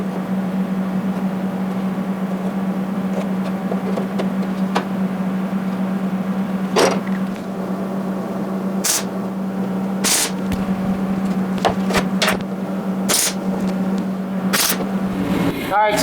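A workshop heater runs with a steady low hum throughout, while sharp intermittent clicks and bursts of noise break in over it.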